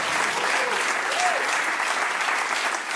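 A comedy show audience breaks into loud, sustained applause, dense clapping that fills the room steadily throughout with no pauses.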